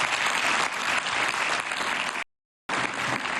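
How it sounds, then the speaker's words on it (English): Audience applause fills a European Parliament conference hall, dense and steady clapping from a crowd, close and loud, cut by a brief silent gap before resuming. "So, first of all, a big applause for you."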